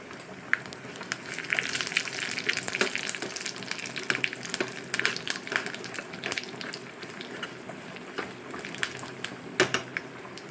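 Chili crackling in hot oil for a tempering for wild mango pulimunchi, a steady busy sizzle with sharp pops and spatters throughout, fairly quiet and close.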